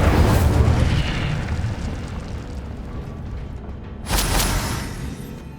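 An Incendio fire spell cast in Hogwarts Legacy bursts out as a loud, deep whooshing blast of flame that fades into a rumbling roar, followed by a second fiery burst partway through.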